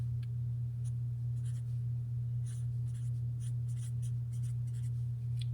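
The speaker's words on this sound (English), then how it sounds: "So I'm going to write that down here." A pen scratches across paper in short, irregular strokes while a geometry vocabulary note is written out, close and fairly quiet over a steady low electrical hum.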